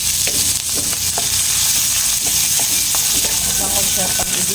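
Aromatics and whole peppercorns sizzle in a hot pan as a base for chicken with tomato paste, a loud continuous frying hiss with occasional stirring scrapes.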